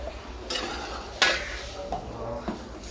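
Spaghetti stirred in a cooking pot, with a few clinking and scraping knocks of a utensil against the metal rim over a soft background sizzle, close by.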